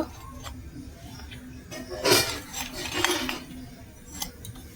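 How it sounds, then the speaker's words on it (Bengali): A knife slices cabbage leaves on a cutting board while chow mein is being prepared. Faint scattered taps and clicks land at an uneven pace, with one louder scrape in the middle, against a quiet kitchen background. "বাঁধাকপিটা এইভাবে কেটে নিতে হবে।"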